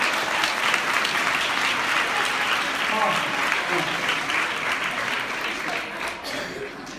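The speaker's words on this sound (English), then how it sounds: "Give them a little applause there" A live audience at a motivational talk breaks into full, continuous applause, a loud wash of many hands clapping that holds steady, then thins slightly near the end.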